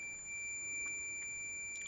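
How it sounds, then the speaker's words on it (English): A Fluke 12 multimeter gives a steady continuity beep while testing an automotive fuse, a thin faint tone holding for the full two seconds. "And we'll try the beep test."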